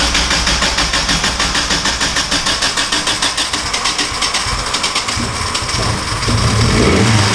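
A rear-wheel-drive Honda Civic engine with a new exhaust revs hard and steadily with a rough, knocky, pulsing exhaust note, loud and close, swelling louder near the end.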